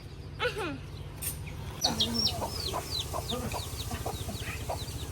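Chickens clucking around a coop at a rural home, with repeated short calls and chirps spread across the moment over a low steady background rumble.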